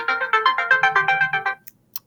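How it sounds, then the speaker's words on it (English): A phone ringtone plays in a classroom during an algebra lesson, a rapid repeating melodic chime pattern, loud and close, running about a second and a half before cutting off, followed by brief faint clicks. "Phone's ringing."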